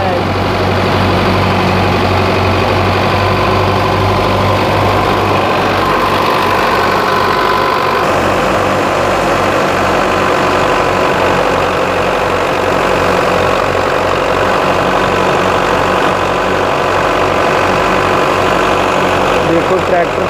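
A Belarus 510 tractor engine, powering a thresher, runs steadily throughout, a constant low rumble with rhythmic knocking, close by and loud, with faint voices underneath.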